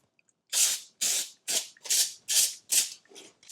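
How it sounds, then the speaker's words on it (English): Six short bursts of baking spray from an aerosol can onto foil in quick succession, each a sharp close hiss, followed by a softer final burst. "And then give this a spray with some baking spray."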